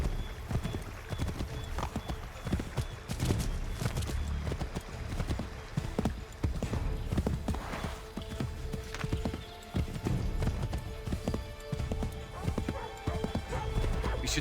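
Horse hooves clip-clop steadily at a riding pace in Assassin's Creed III, with occasional whinnies, under game music and ambience while voices speak intermittently.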